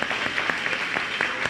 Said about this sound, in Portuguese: Eu queria agora uma salva de palmas para vocês também,